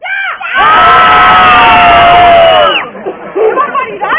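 A large group of children lets out a loud, sustained villain's shout during a costumed historical tour, a unison scream lasting about two seconds before it trails off into scattered voices.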